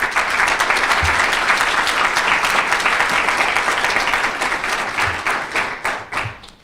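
A full audience round of applause at a Nevada public debate event for the director of forensics and coach, dense steady clapping from many hands filling the room, tapering off at the end.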